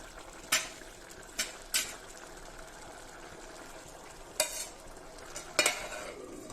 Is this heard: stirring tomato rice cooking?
yes